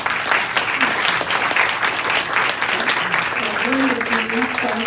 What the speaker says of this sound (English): Let's give them a big applause